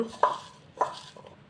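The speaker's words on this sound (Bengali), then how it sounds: "নিয়ে নিছি মরিচ, কিছু পেঁয়াজ নিয়ে নিলাম, লবণ, এটা দিয়ে চটকাই নিব" Two soft, wet thuds about half a second apart, then a fainter third, as chilli, onion and salt are mashed by hand for a bharta, close and quiet with no talk.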